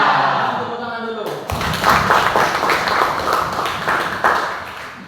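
Children in a classroom break into a round of hand clapping after a voice fades, a quick rhythmic patter of many small hands, close and lively, with voices mixed in.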